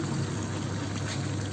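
Water is poured into a pan of beef tripe curry, making a steady, close rushing pour that runs evenly through the short stretch without pauses or voices.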